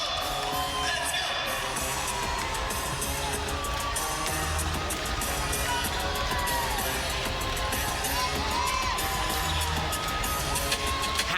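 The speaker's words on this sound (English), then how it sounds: "This crowd is really, I mean, they are standing on their feet right now in this arena." Basketball arena crowd standing and cheering late in a Seattle Storm vs Atlanta Dream game, a steady dense roar with whoops and yells, loud and continuous throughout, with some talk mixed in.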